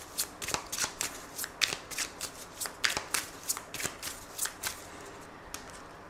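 Lenormand cards shuffled by hand in close, soft riffling bursts, a rapid rhythmic series of papery flicks and slaps with no talking.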